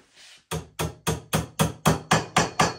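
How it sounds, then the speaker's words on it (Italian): A small hammer taps wood on a workbench about nine times in an even rhythm, each blow sharp and close. The work is a multilayer plywood bench build, and the taps follow a brief soft rustle. "un martellino"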